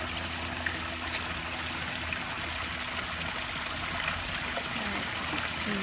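Backyard rock-garden waterfall feeding a foamy stream, a steady broadband rush of flowing and splashing water that holds constant and fairly close, with no voices over it.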